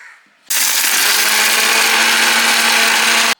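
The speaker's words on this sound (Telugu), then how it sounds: "సో ఇంతవరకు మిక్సీ వేద్దాం." Mixer grinder whirring loudly as it grinds garlic and salt for mango chutney, starting abruptly and running steadily for about three seconds before cutting off.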